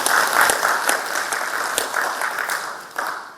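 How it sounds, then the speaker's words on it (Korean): Applause from an audience at a public hearing in a county hall auditorium: steady, dense clapping from many hands throughout, fairly close and even in loudness, with no talk over it. "다시 한번 우리 좋은 얘기 박수로 좀 해주셨으면 고맙겠습니다"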